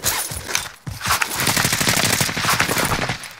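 Rapid automatic gunfire in a multiplayer shooter video game, loud bursts of close shots rattling continuously with brief breaks.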